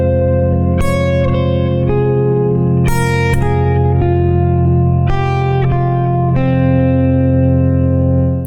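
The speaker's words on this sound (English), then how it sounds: "here's what that sounds like when I play in a linear fashion going down the fretboard" Electric guitar with effects plays a descending melodic line over a sustained low drone chord, with ringing echoing notes stepping downward, loud and continuous.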